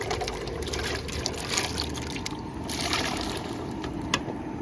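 Pieces of tapioca drop into a pot of water, giving a steady watery sloshing and splashing close by with no talking.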